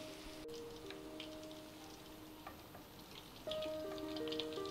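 Chicken manchurian frying in hot oil over medium heat, a faint steady sizzle and crackle like light rain, with a soft tonal hum in the background.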